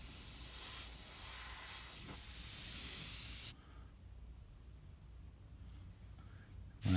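An airbrush spraying paint while mixing colours for a realistic animal painting: a steady, close hiss for several seconds, then quiet, then a fresh burst of spray at the end.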